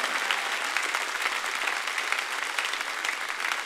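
Congregation at a church service clapping their hands: a dense, continuous wash of applause from many people, steady and moderately distant for the whole stretch, with no voices standing out.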